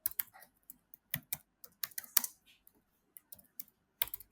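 Keys tapped on a computer keyboard while entering a chart label in a stock-charting tutorial, irregular bursts of crisp clicks with short pauses between words, close and fairly quiet, no talking.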